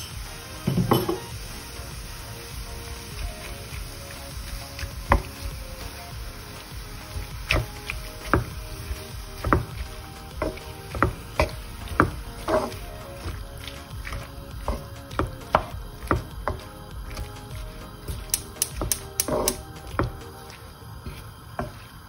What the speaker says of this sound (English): And we're just going to stir it. Stirred until it's all mixed in.